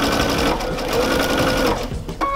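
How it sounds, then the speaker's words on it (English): A sewing machine runs steadily while stitching patchwork strips, a loud, close, continuous whirring hum that slows and stops near the end. "And I'm stitching along, all the way along, and just stopping there like that."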